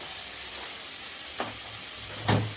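Onions and tomatoes sauté in a pan with a steady, soft sizzle and hiss, and a couple of brief scraping stirs. No one speaks.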